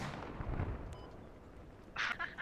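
Video game gunfire as a player's aircraft is shot down: a burst of cracks and booms early on, then a louder sharp burst near the end, with speech faintly present.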